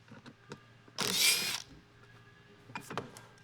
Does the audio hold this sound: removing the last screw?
yes